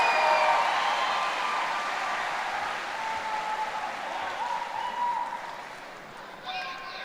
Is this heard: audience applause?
yes